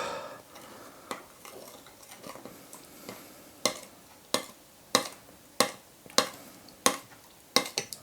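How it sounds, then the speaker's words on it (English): Ingredients for a Chinese roast lamb sauce being mixed in a bowl: a spoon taps and scrapes against the sides in a series of sharp clinks, growing more regular and pronounced toward the end. "So we're going to mix this all up."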